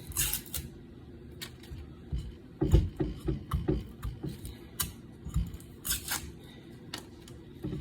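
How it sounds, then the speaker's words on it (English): Paper being pulled and torn off a chestnut squash in short crackling rips and light ticking rustles, close and fairly quiet, in an irregular run of bursts. "Get this paper off."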